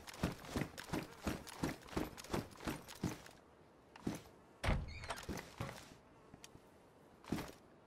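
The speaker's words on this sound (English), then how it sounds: "I don't know if that door just shut beside me" A door shuts with a heavy thunk inside a two-story military barracks in an online shooter game, following a quick run of rhythmic footstep-like thuds, with a few scattered knocks after.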